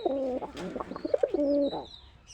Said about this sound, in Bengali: এখন আমি কবুতরটা আপনাদের ডাক শোনাচ্ছি শুধু